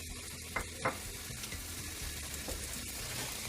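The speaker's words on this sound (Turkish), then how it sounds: "Biraz da soğanlarla kavrulacak." Meat and onions fry in butter in a pan, giving a steady broadband sizzle with a few sharp scrapes or stirs standing out, close and moderately loud with no talking.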